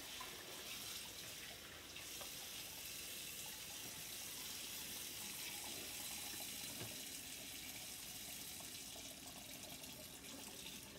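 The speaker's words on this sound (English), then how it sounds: "rinse this in cold water." Cold tap water runs steadily into a kitchen sink while a whole turkey is rinsed, a continuous close splashing hiss with small shifts as the stream hits the bird, no voices.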